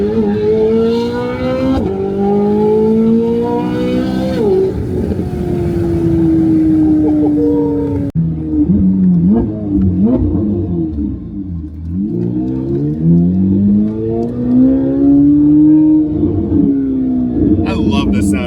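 A straight-piped Chevrolet Corvette C8 Z06 engine revs loud and close, its pitch sweeping up and down through sustained rises and falls with a brief break midway.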